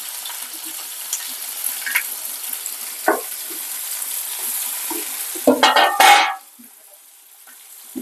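Onions go into hot oil with tempering seeds for a rajma curry: a steady sizzle with spoon scrapes and stirring clatter, swelling into a loud crackling burst before dropping to a quiet simmer.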